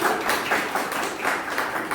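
A room of participants at a school voter-awareness quiz competition claps for the second-place team, a steady close patter of many hands with light rhythmic pulsing.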